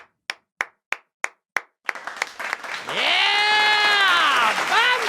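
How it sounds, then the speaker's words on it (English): A handful of slow, separate hand claps build into sustained audience applause during a golf-themed podcast, swelling into loud, steady clapping with cheering voices and a whistle-like tone rising above the crowd. "Do we have an applause?"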